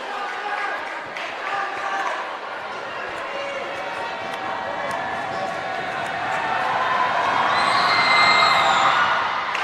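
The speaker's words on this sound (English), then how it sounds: "That gets a cheer from the home crowd here." A home crowd at a high school boys basketball game cheers in a gym, a broad roar of voices that swells toward the end while a commentator talks over it.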